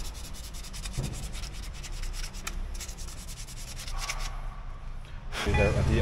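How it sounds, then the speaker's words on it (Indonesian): Brake parts on an older Perodua Myvi being scrubbed during a brake pad and rotor service, a steady rubbing rasp throughout that grows louder near the end, with no speech. "Gosok sikit."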